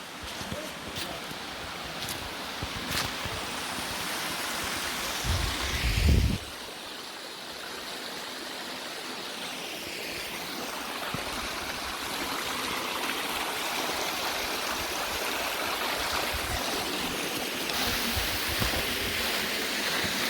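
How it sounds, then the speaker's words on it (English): A waterfall and stream at Cumberland Trail State Park rush steadily in a dense, continuous broadband roar, close and fairly loud, with a brief thump of handling noise partway through. "Here's the real waterfall right here."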